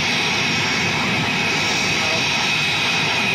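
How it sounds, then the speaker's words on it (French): Steady, loud jet engine roar with a broad hiss, holding constant throughout as an unmanned private jet powers forward; no pauses or breaks. "The jet is now powering forward."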